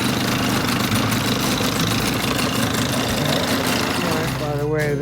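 A 1983 Mercury 25hp outboard motor runs steadily just after starting, a loud, close, continuous engine drone with a rapid mechanical rattle and no break in the rhythm.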